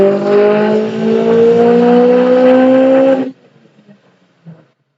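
A Subaru EJ207 engine with Kelford cams and a 20G turbo revs hard through a dyno pull, a loud rising tonal roar for about three seconds before cutting off abruptly into faint clicks and a small pop.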